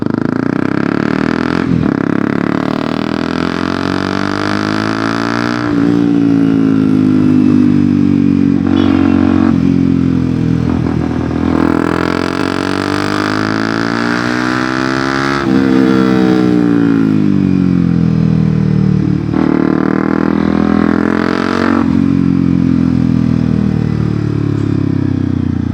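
A motorcycle fitted with a loud Akrapovic exhaust hums and rises and falls in pitch as the rider accelerates and shifts, loud and close for the whole ride.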